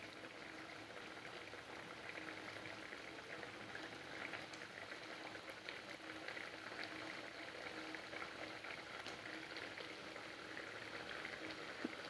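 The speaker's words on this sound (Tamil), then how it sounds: "சேமியா வேகட்டும், வெயிட் பண்ணலாம்." Vermicelli simmers on low heat in a pan while cooking for semiya kesari, giving a faint, steady bubbling hiss that continues evenly with no talk.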